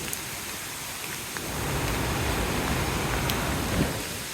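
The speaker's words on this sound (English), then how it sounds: "Oh, raining." Rain falls steadily on the way to Ozarde waterfall in Maharashtra, a soft, even hiss that thickens after a moment and continues, with a few faint drips and no voices.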